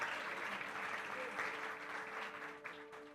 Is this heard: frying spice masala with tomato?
no